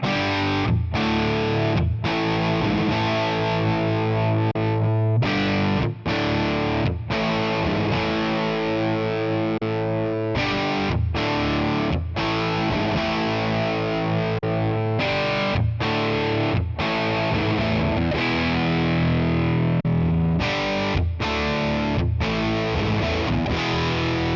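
Distorted electric guitar strums chords in choppy bursts with brief stops between them through a Tonex One amp model, loud, gritty and upfront with no speech.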